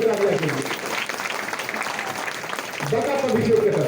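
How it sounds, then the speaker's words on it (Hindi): A crowd applauds at a UP Police passing out parade at the Moradabad training center, a steady mass of clapping running under an amplified announcer's voice heard at the start and end. "जोरदार तालियां अभिषेक कटारिया के लिए।"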